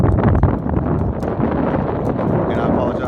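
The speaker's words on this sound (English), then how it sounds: "And I apologize for the wind. It is blowing like crazy today." Strong wind buffets the microphone outdoors beside a parked 2017 Peterbilt 389 truck, a loud, continuous low rumbling roar with gusty surges that never lets up.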